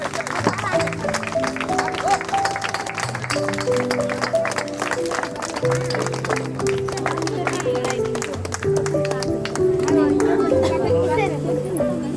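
Wedding guests at a Christian ceremony clap in a dense, steady wave of applause from a crowd, mixed with music and chatter throughout.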